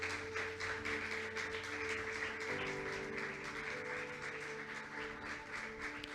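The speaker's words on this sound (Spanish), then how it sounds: "Vamos a darle un aplauso a Dios por lo que Él está haciendo." Church congregation applauding during a Sunday service, steady sustained clapping from many hands with organ or keyboard tones held underneath throughout.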